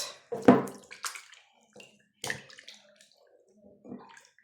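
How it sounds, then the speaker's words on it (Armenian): Water splashes and gurgles in short bursts as it is tipped out, with drips and brief pauses between pours. "Այս ջուրը կդադարկեմ, հետո ուրիշ ջուր կվերցնենք թազա։"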